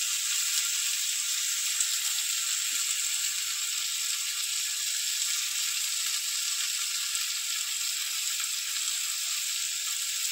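Taro with rui fish and spices fries in a pan, giving a steady, even hiss of sizzling oil that carries on without a break from start to finish, close and fairly loud, with no talking.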